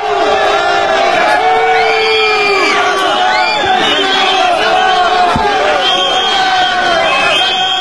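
A large, angry crowd of farmers boos and shouts at the agriculture fair, a dense, continuous roar of jeering voices with scattered louder yells throughout.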